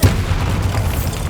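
A Bombarda spell explodes in Hogwarts Legacy with a loud, deep boom that hits at once and rolls on as a heavy low rumble, alone without speech.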